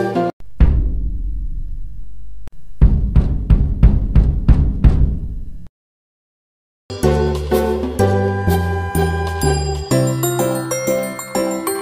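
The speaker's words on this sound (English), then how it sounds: "Its low and deep sound is produced by striking its head with a stick or mallet." A bass drum head struck with a stick or mallet gives a low, booming hit, then a quick run of about six deep thuds, each ringing briefly before the next, and then a stretch of tinkling tuned music.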